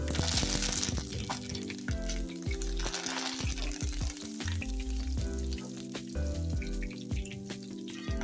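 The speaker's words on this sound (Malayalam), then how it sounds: "ഇനി നമുക്ക് കറിവേപ്പിലയൊന്ന് മൂപ്പിച്ചെടുക്കാം" Curry leaves fry in hot oil, a close, busy sizzle with sharp spitting crackles and clinks of a utensil stirring through the pan, steady throughout.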